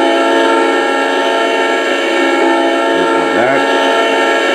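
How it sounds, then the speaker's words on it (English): A short horn from an MRC 750 DCC sound decoder in a model train sounds as a loud, steady, sustained tone with a faint voice briefly underneath near the end. "number 3 is a short horn apparently."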